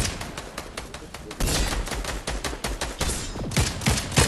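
Gunshots ring out in a Fortnite match as players fire at an opponent by a tree. The shots come as rapid, sharp bursts of automatic fire, loud and close, with brief gaps between volleys.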